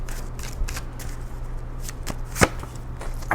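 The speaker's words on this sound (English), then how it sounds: "Let's pull the rest of your cards here." Tarot cards shuffled and pulled from a deck: a run of soft, close riffling and slapping bursts with one sharper snap near the end, no talking.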